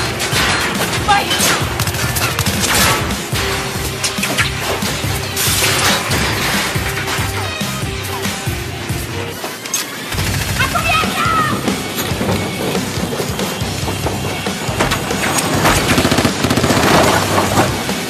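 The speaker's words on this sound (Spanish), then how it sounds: "¡Todos disparan con gran calibre!" Heavy-calibre gunfire in a bank shootout, loud and sustained with rapid bursts, crashes and booms layered over one another, while people shout over the barrage throughout.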